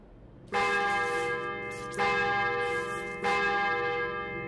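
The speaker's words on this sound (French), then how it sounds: "Sonne la cloche, vas-y." A large bell in Lost Ark rings out three times at even intervals, each loud, resonant strike ringing on and slowly decaying, with no voices over it.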